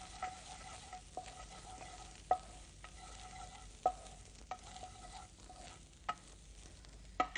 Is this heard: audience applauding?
no